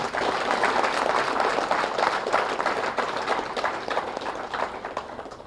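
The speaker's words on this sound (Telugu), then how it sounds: "బృందానికి చప్పట్లు కొడతాం" Audience at a youth-oriented spiritual service talk in the Kailasapuri premises bursts into sustained, dense applause, a loud, steady wash of clapping that fades slightly toward the end.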